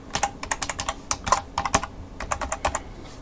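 Someone types a web address on a computer keyboard in quick, crisp bursts of clicking keystrokes, with short pauses between clusters and no voices.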